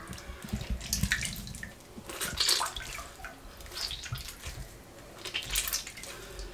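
Homemade butter is squeezed by hand to press out the buttermilk and then handled in cold water, giving soft splashes, trickles and drips in uneven bursts, close up and fairly quiet.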